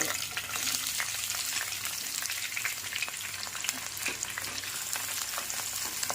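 Steady, close crackling and spitting of fenugreek seeds and green chillies frying in hot oil for a fish curry, a dense sizzle with small pops throughout, no talking.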